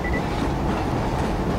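A transport train in Killzone 2 rumbles along with a continuous loud rolling rattle of wheels and carriages, steady and close with no speech over it.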